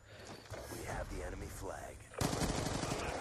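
Rapid gunfire from the video game Black Ops 2 crackles through steady game noise, with a louder, denser burst near the end; a voice talks over the shooting.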